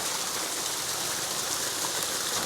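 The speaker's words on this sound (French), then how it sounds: "la cascade, regardez-moi ça, c'est incroyable." A waterfall on Madeira roars as a dense, steady broadband rush, close and unbroken for the whole stretch, with no voices over it.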